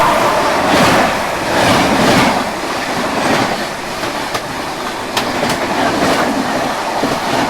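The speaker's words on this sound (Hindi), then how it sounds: "ज़बरदस्त रफ्तार में कोई तो ट्रेन आ रही है भाई साहब।" A train rushes past at high speed close by near Sawai Madhopur, a loud continuous roar of wheels and wind with rhythmic clacking over rail joints and sharp metallic clicks, no voices.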